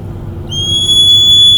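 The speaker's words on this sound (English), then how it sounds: "It's a loud sound produced by this buzzer, right?" A homemade water level indicator's buzzer alarm sounds as water poured into a tumbler reaches the pencil contacts: a loud, steady, high-pitched electronic tone starts abruptly about a third of the way in and holds over low background noise.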